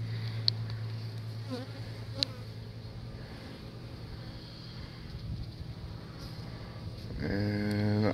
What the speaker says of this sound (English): It's going to have plenty of nurse bees.